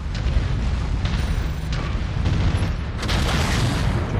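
Tank and hovercraft weapon fire pounds against a mech in the video game MechWarrior 5: Mercenaries as a dense run of heavy booming impacts and rumbling blasts, loud and nearly continuous, with a fresh surge of explosions near the end.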